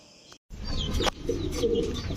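Fancy pigeons at a pigeon farm coo and chirp close by, with soft overlapping calls and a brief wing flutter.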